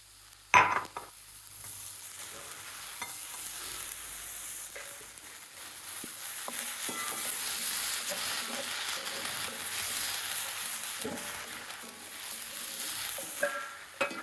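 Onions and long capsicum stir-fry in a pan with a steady, close sizzle. A few sharp utensil clanks come near the start and end, and no one talks.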